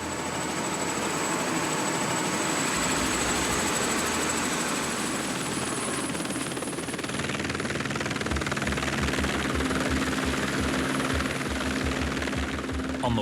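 A rescue helicopter in flight over New Zealand high country, its steady, loud rotor and engine roar filling the whole clip with constant thudding and whine.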